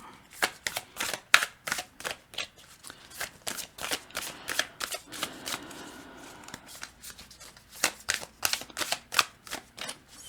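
Oracle cards are shuffled by hand in repeated quick riffles, each burst a crisp flutter separated by short pauses, close and fairly quiet with no talking.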